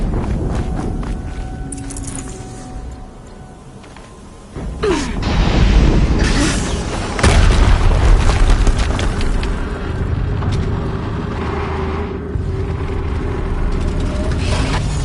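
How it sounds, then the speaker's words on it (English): Explosions in the Horizon Zero Dawn video game: deep booming blasts around the middle with rumbling aftermath over steady background game noise, loud and close. "Another explosion."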